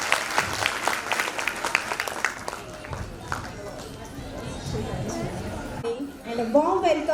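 An audience at a school felicitation ceremony claps in a dense burst of applause that gradually thins, with a voice speaking over it.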